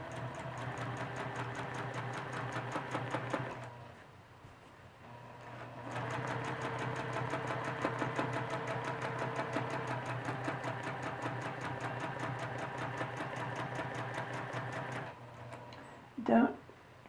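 A sewing machine stitches along a stem line in free-motion quilting, running steadily with a rapid mechanical chatter. It pauses briefly near the middle, then resumes, and stops with a short clunk at the end.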